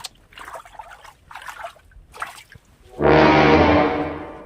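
Water poured out in a rural village setting, a loud, steady gushing stream that starts abruptly after a few faint rustles and runs on, gradually tapering.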